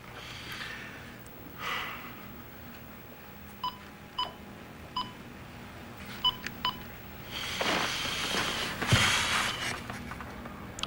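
A telephone number being punched in on a phone keypad, a slow sequence of short separate dial tones spaced a second or so apart, with quiet room noise and a louder rustle near the end.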